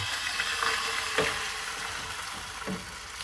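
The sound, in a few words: omelette mixture sizzling in oiled pan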